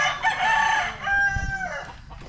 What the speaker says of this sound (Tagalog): Maingay na mga manok.